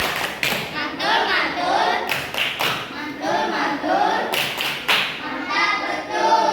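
An Indonesian classroom of students performs a rhythmic clapping routine, sharp group claps and thumps keeping time with chanted voices, fairly close and lively throughout.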